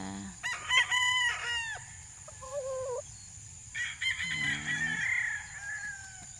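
Chickens on a small backyard farm cluck and squawk at close range, with a rooster crowing partway through and scattered calls over a quiet outdoor background.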